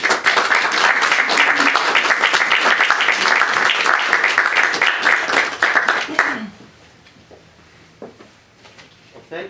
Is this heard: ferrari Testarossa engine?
no